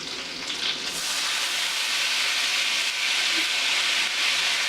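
Pasta water ladled into a hot pan of butter for cacio e pepe, hissing in a steady loud sizzle that swells slightly midway, no talk.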